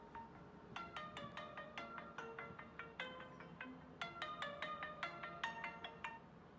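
Phone ringtone playing a repeated bright melodic chime pattern in bursts across the clip, moderately loud over faint background noise, with no talk.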